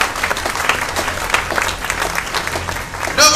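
Church congregation applauding during a Sunday service in a brief, dense burst of clapping that fills the room, steady throughout, with a voice rising at the very end.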